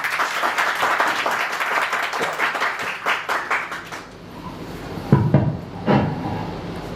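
An indoor audience at a company promotion event claps loudly for several seconds. The applause dies away, and a few sharp knocks and thumps follow.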